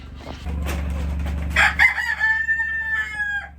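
A rooster crows nearby, a long drawn-out call rising and trailing off, over a steady low mechanical hum.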